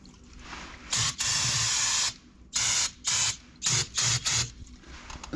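Dirt Be Gone cleaner sprayed from a can onto a compact skid steer's drive area near the sprocket, giving several close, loud hissing bursts of about a second each, separated by short pauses.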